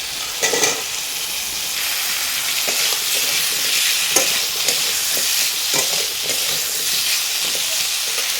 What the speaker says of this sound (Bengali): এটা আমার ভাজা হয়ে গেছে, তেল ছেড়ে দিয়েছে। এটাকে যেটা আমি শসাটা এটা কেটে রেখেছিলাম, এটা আমি দিয়ে দেবো।